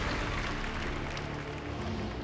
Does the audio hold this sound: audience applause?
yes